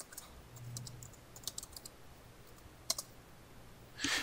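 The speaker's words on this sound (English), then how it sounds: "So you enter your password" Password entered on a computer keyboard, a few quiet, scattered key clicks and taps in a short burst, faint and close in an otherwise quiet room.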